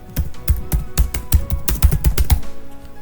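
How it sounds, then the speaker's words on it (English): Quick keystrokes on a computer keyboard as a search is typed into Windows, a close, crisp run of about a dozen taps at an uneven rhythm that stops shortly before the end. "in Windows search type control panel"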